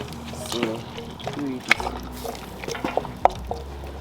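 Maize flour mixture is poured into a pot of boiling water while cooking tuo zaafi, giving soft bubbling with scattered drips and small splashes, close up, as a person talks nearby.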